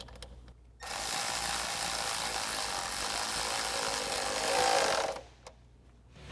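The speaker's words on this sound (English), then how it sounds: "we'll take our 8mm socket to tighten down the clamp connecting to our throttle body" A power tool drives an 8mm socket on the intake clamp at a car's throttle body while a cold air intake is fitted, a loud steady whirring burst lasting about four seconds, then stopping abruptly.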